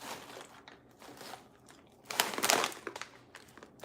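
Crunchy pretzel sticks being bitten and chewed, with soft crackling crunches through the first half and a louder, denser burst of crunching near the middle, close to the mic, without speech.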